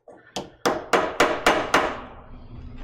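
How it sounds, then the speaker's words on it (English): A banana frozen solid in liquid nitrogen is used as a hammer, giving six sharp, hard knocks in quick succession, close and loud, each ringing briefly before the next strike. "So, can you use a banana as a hammer?"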